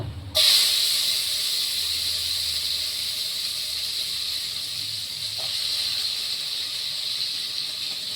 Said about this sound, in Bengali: কড়াইতে তেল দিয়ে দিয়েছি। আমি এখন উচ্ছে ভাজা করব।